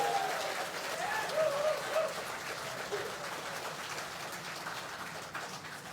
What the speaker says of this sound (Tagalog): isang mainit na palakpak bilang pasalamat sa